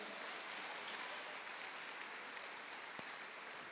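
A church congregation applauding during a worship service, a steady wash of clapping from many hands that holds evenly throughout, with no voices standing out.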